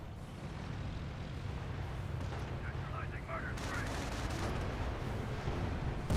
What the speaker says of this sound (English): Looks like a pretty good shelling